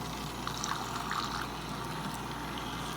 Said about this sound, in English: I'm just going to add more water.